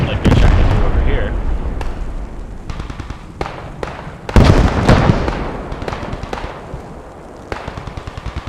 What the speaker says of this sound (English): Pretty active mortars